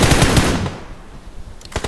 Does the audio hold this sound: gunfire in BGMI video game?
yes